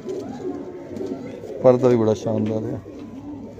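A golden-winged pet pigeon coos nearby in a few low, throaty phrases, heard under a voice as he talks about the bird.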